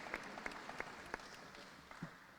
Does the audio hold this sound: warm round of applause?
yes